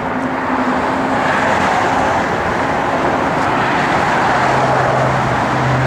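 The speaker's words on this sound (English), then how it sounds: "It's got Magnaflow X-Pipe dual exhaust on it." A 1974 Dodge Challenger resto-mod with a Magnaflow X-pipe dual exhaust holds a steady, loud low rumble throughout, with a deeper drone settling in near the end and no talking.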